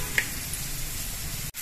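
Mashed roasted eggplant for baingan bharta tipped into a pan of hot masala, giving a steady soft sizzle with a brief thud of the mash landing and a short dip near the end.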